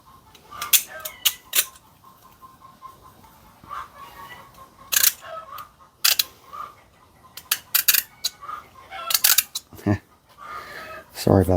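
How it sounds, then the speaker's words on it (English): Chickens cluck and crow nearby during inverter modification work, with sharp clicks and snaps mixed in among the bird calls and occasional talk. "Sorry about the chickens."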